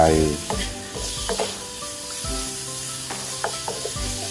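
Shredded ginger hits a hot wok of pork belly stir-fry, setting off a loud, steady sizzle with intermittent scrapes and stirring clatter throughout.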